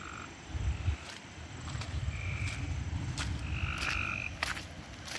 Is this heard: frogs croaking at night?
yes